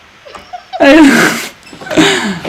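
Two loud, close sneezes, the first a sharp burst after a short intake of breath, the second following about a second later.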